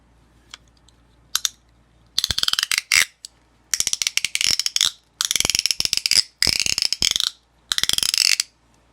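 A Sensory FX ASMR slide stick is worked in loud bursts of rapid ratcheting clicks, like a zipper or gear being dragged, with short silent gaps between strokes.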